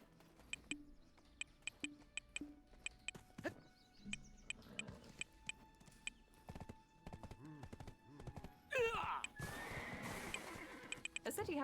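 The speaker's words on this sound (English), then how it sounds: "Wait, I need my horse." A horse in the video game Black Desert neighs over a run of clip-clopping hooves. Sharp, evenly spaced game sound effects surround it, and a loud burst of activity swells near the end.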